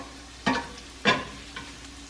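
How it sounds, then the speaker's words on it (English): Shallots sauté in a pan: a low sizzle underneath two sharp stirring scrapes and a fainter third, close and brief. "I'm gonna saute my shallots."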